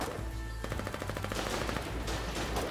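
Colonial gun in the Foxhole video game firing rapid automatic bursts, close and loud, a fast even rhythm of shots over a low rumble with no talking.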